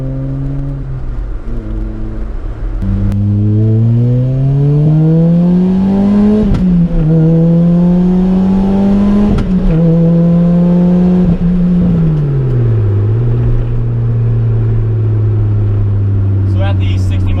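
A supercharged Lotus Elise engine pulls hard through the gears, its pitch climbing steadily, dipping at each shift, then rising again. The sound is loud and close, with wind noise, and a voice talks briefly over it.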